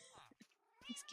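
A cat in the video game Minecraft 1.14.2 meows in short, close calls lasting about a second, with a voice speaking nearby.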